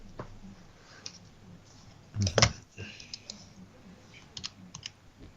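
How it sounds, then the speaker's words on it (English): Someone types on a computer keyboard: a short dense burst of clicks, with scattered soft taps before and after it. The keys are close and moderately loud over quiet room tone. "What are you typing in?"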